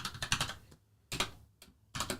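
Typing on a computer keyboard, three quick bursts of clustered key clicks separated by short pauses, close and crisp with no talking.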